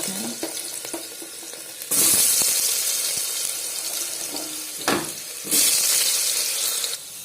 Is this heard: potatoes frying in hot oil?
yes